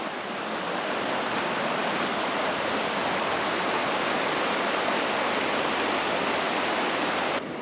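River flowing behind a Colorado campsite, a steady broadband rush of water that holds constant and close throughout with no other sounds.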